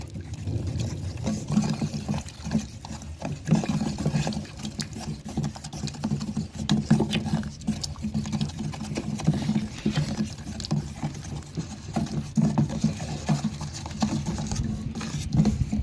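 Homemade matte paint of powder mixed with water is stirred in a container, a rapid, continuous wet patter and scraping close up that keeps a busy, irregular rhythm throughout without speech.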